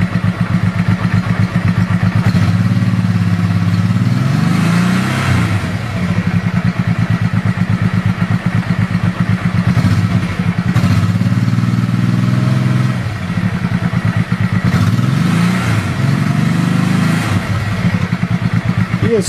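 A small engine, just off the choke, idles steadily with a low, even chug, with a few faint clatters and brief dips in level along the way.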